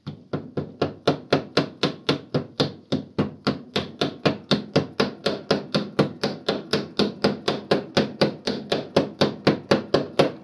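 A mallet taps steadily on a pellet press roller, a long run of evenly spaced, crisp knocks at a brisk rhythm, close and moderately loud with no voices.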